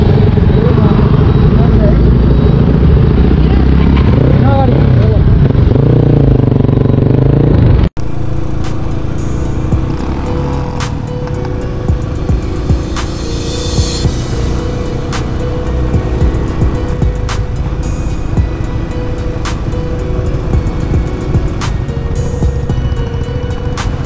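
A crowd of motorcycles, Royal Enfield Bullets among them, runs in a steady loud engine rumble with a sharp cut partway through, and voices talk over it in the first stretch.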